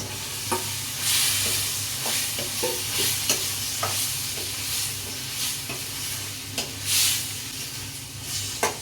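Chicken pieces are stirred into a tomato masala, giving a steady frying sizzle broken by repeated scraping and clanking spoon strokes against the pan, close by and without speech.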